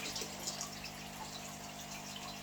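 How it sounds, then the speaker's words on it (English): Old aquarium water is poured into a 40-litre fish tank, a steady close trickle and splash running evenly throughout with no voices. "I'm going to take old water from this fish tank, the one that I made today. And place it over here"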